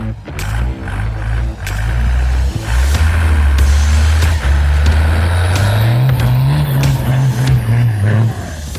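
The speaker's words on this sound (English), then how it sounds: "Goes great with those car sounds of Brad Stapp's 1991 Dodge W250 with a Cummins 12 valve" A 1991 Dodge W250 truck with a Cummins 12-valve engine drones loudly and steadily up close, its pitch climbing around the middle as it revs, continuing without a break until near the end.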